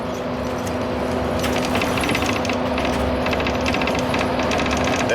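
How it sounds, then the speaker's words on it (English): A window rattles inside a moving vehicle on a road trip, a fast metallic buzzing chatter that comes in bursts over a steady road and engine rumble. "I get to hear this rattle from this window"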